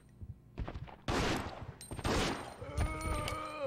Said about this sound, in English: Let's shoot him.